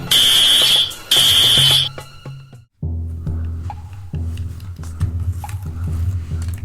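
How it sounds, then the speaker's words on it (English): Fire alarm at a police station in a play scene, a loud shrill electronic tone that sounds twice, then gives way to thumping, rustling and a low hum. "That's the fire alarm."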